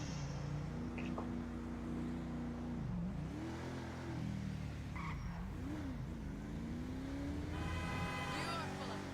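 A personal car in the GTA video game drives with a revving engine that rises and falls, tires squealing at moments, while a voice talks over the game sound.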